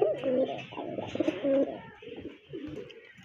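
A pair of pigeons coos close by, giving soft, throaty repeated calls in a short burst, with a little faint background noise.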